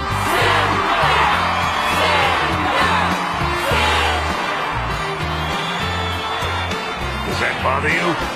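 A boxing arena crowd roars for the fighter Ippo, a loud and continuous wall of cheering with whoops and shouted yells rising and falling across the whole stretch.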